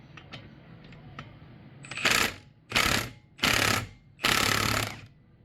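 A clutch sheave puller bolt with a reverse thread is tightened by hand, giving four loud, close bursts of rapid ratcheting or whirring separated by short pauses, after a few faint clicks.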